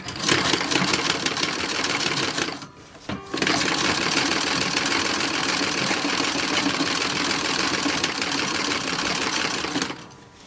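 Sewing machine running fast and loud on a toddler romper bodice, one long steady stitching run with a short pause near three seconds and a stop at the end.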